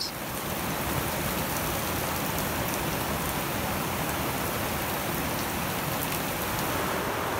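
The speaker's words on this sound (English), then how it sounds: "It's raining." Steady, heavy rainfall from a squall in the North Pacific hissing continuously across the whole clip, dense and close, with scattered drops pattering on a surface and no voices.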